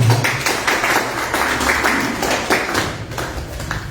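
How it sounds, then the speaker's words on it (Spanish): Audience at a forum on the United States and Latin America clapping, a dense, loud stretch of many hands applauding together for several seconds. "Un aplauso, ¿no?"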